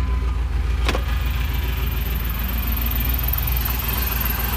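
A truck engine, not started for a long time, turns over with a brief burst, then settles into a steady low idle that runs continuously.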